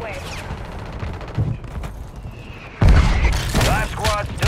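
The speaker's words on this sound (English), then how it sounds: "Mortar strike on the way." Mortar strike explosions in Call of Duty Warzone on Fortune's Keep, a dense run of booming blasts and gunfire cracks that swells loud near the end, with game voice chatter over the top.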